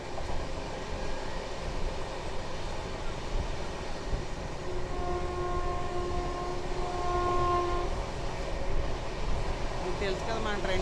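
The Chennai to Vijayawada Duronto Express runs nonstop at speed, a loud continuous rumble of wheels and rail with a sustained horn tone sounding partway through.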